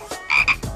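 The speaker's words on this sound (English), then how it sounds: "There's a frog in this box." Frog croaking from inside a box in a video game, a quick series of three or four raspy croaks within under a second, close and clear.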